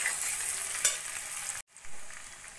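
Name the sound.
sautéing onion, potato and tomato for chana dal khichuri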